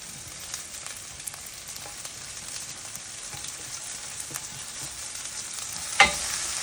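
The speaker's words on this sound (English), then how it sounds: "So now I'm going to go on ahead and I'm going to add in the garlic as well as the tomatoes." Garlic and tomatoes sizzle steadily in a frying pan for tinned fish pasta, a dense crackling hiss with a brief clatter near the end.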